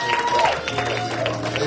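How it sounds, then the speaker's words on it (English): A revival congregation claps for the preacher, a busy wash of applause with sustained tones, likely music, underneath and a voice calling out over it. "Give him a big round of applause"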